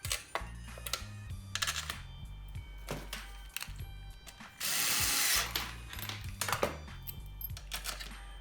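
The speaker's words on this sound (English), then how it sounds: "now we're gonna install the rest of the screws back in the system" Screws are driven back into an Xbox One X case with a small power driver in short buzzing bursts, separated by quiet gaps and soft handling clicks, recorded close.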